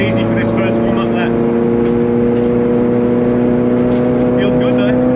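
Racing video game car with steady engine drone and tonal whine on a track during a warm-up lap, loud and continuous, with faint passing engine sweeps from supercars closing in from behind.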